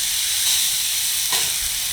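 Steaks sizzling on a Char-Broil grill, a loud, steady, dense hiss of fat and juices filling the whole clip with a brief crackle partway through, no voices.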